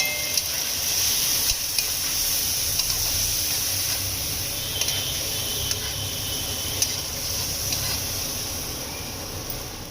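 Spices with turmeric, potato and paneer frying in a pan for aloo paneer: a steady, loud sizzle and hiss runs throughout, with faint stirring scrapes and a few soft clicks.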